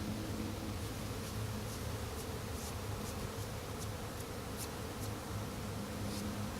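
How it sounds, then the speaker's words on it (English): A steady, dense buzzing of many honey bees fills the air continuously, with a low hum underneath and no voices. "you can see there's a lot of bees"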